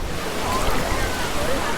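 Ocean surf on a Sydney beach on a warm summer day, a steady broadband wash of breaking waves and wind buffeting the microphone, continuous and fairly loud with no distinct individual crashes.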